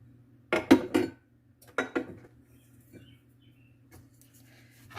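A wooden spoon stirs bread dough for a Tuscan loaf in a bowl, giving a few quick clusters of knocks and scrapes separated by quiet gaps, close and fairly soft, with no voices.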